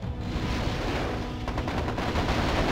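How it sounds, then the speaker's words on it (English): Dense, continuous gunfire and explosions from the MechCommander Gold video game, with battle mechs trading fire. Rapid bursts and booms overlap in a steady, loud barrage with no clear gaps. "I'm getting shot at."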